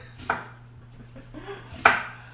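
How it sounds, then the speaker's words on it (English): A knife chops a seeded jalapeno pepper on a cutting board in two crisp, close strikes about a second and a half apart, with softer board contact between them and no talking. "1 jalapeno pepper seeded and minced"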